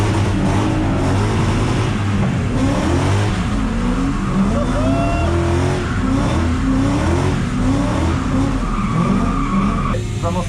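A drift car engine revs hard and accelerates at a drift event, a loud, sustained, wavering roar with rising and falling pitch sweeps and tire skidding, close and dominant throughout.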